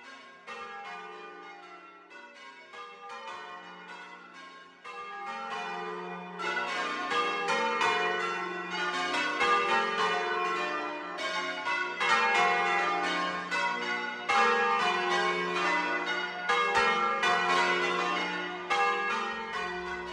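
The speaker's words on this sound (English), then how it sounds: "the public were made welcome at bell ringing practices at church towers in many villages in Somerset, Wiltshire and Bath and North East Somerset" Church bells ring in a long continuous peal at a Somerset tower during the Frome Festival, overlapping tones tumbling in steady changes, loud and resonant throughout without voices.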